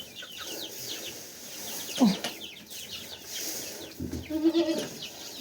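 A couple of goat bleats ring out among clucking hens and scattered farmyard noise in a snowy winter yard, fairly close and moderately loud.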